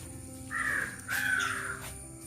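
Two harsh crow caws ring out over a steady background hum, with a short pause between them, near a temple and old Jewish cemetery in the woods at Chendamangalam, Kerala.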